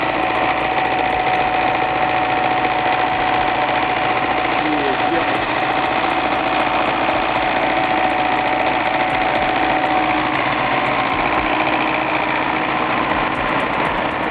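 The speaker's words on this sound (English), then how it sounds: "This guy's drifting a tractor like he's in Fast and Furious" Tractor engine working hard while the tractor drifts, rear axle strained: a continuous loud, rough engine drone with knocking texture, steady throughout, with a voice talking over it.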